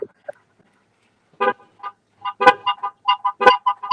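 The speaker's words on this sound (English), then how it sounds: "Keep honking a fucking horn." A car horn toots in short, choppy bursts, a few quick honks followed by a rapid irregular series of beeps, sharp and nearby against otherwise quiet surroundings.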